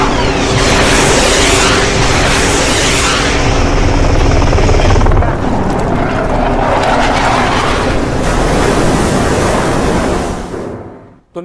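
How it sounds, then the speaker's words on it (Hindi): A military helicopter flies low over a ship at sea, its loud roaring rotor and engine noise filling the whole clip before it thins and cuts off near the end. "ये वही हेलीकॉप्टर आप देख रहे हैं। हेलीकॉप्टर वहां पहुंचा ईरान के जहाज के ऊपर।"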